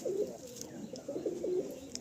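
Pigeons at a Kolkata pigeon seller's shed, a bird-market setting, coo in soft, low rolling phrases, two main bursts close by over a faint hum, with no talking.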